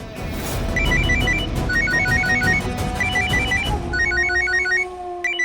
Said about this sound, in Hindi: दादी का फोन।